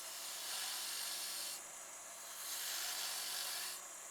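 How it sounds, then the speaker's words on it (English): A small bowl gouge cutting wood on a lathe for bulk removal, a continuous close hissing scrape that swells and eases in long strokes, with no talking. "small bowl gouge to do a lot of bulk removal"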